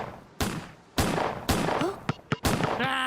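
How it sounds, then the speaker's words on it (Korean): Gunfire from a Grand Theft Auto–style video game shooting mission, a series of loud sharp shots in an irregular burst, several cracking blasts about half a second apart, followed by a brief electronic tone. "첫 번째 미션, 사격 실력을 보여줘요,"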